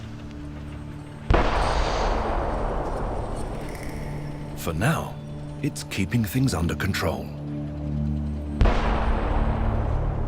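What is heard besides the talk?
firecrackers set off to scare eagles away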